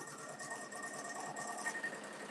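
A sewing machine stitching a full-size top-handle tote bag with foam interfacing hums as a quiet, steady, continuous whir with faint mechanical chatter and no talking.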